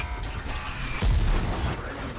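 Both guns of an Object 703 Version II tank in a video game fire at once, a heavy deep boom midway through that rumbles and decays over a steady mechanical background.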